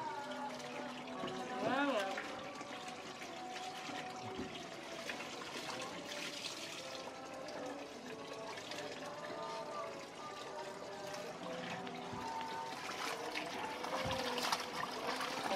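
Water pours and trickles into the tub of a cheap washing machine, a continuous splashing flow with faint voices talking in the background.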